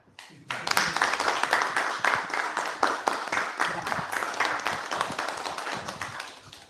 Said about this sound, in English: And maybe we can clap.